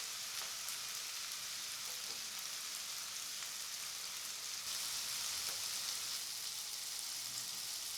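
Desi chicken curry fries in an open pan, a soft, continuous hiss of sizzling oil and spices with faint crackles, quiet and steady throughout, with no talking.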